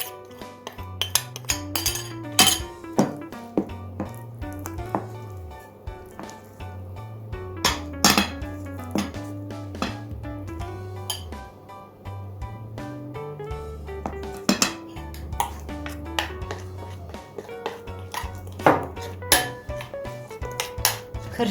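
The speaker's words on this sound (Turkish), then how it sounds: "Şimdi bunu karıştırıyoruz." A spoon or whisk clinks and scrapes steadily against a bowl while cocoa and a spoonful of cinnamon are stirred into cake batter, with sharp repeated knocks and rattles close by and no talking.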